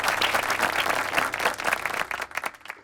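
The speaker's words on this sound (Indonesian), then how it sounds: "Sekali lagi tepuk tangan buat kalian yang ada di sini." Audience applause at a live talk-show recording on social justice and human rights, a dense, steady patter of many hands clapping close by, sustained throughout and fading slightly at the end.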